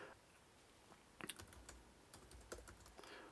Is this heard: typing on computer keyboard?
yes